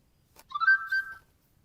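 A short synthetic Huawei Mate 60 Pro "Bongo" notification tone, a sliding hollow note with a second pulse, heard alone and clearly against silence.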